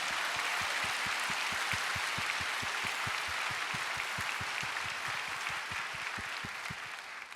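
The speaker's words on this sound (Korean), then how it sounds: "거룩하신 하나님께 가장 큰 박수로 영광 올려드리겠습니다." A church congregation claps together in steady, rhythmic applause, the even beat sustained throughout and slightly fading near the end, with no talking over it.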